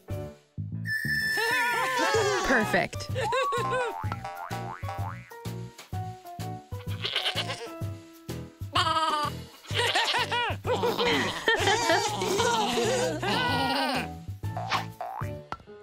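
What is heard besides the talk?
goat bleating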